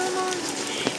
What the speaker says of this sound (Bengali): প্রচুর বৃষ্টি হচ্ছে রাত্রির থেকে।